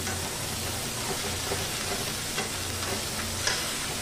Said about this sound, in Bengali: ওদিকে ধনে জিরেটা কষানো হচ্ছে